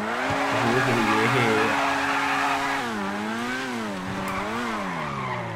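A car engine in GTA V revs loudly and continuously, its pitch rising and dipping as the car accelerates and shifts. Tires squeal under the engine note, and no one speaks.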